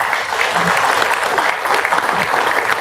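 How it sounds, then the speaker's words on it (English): A crowd claps loudly and continuously, a dense wash of applause that holds steady throughout. "Let's give a warm round of applause"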